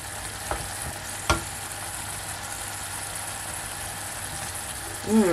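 Steady sizzling of green beans frying in a pan with water in it, with a couple of sharp clicks from stirring and a low background hum throughout.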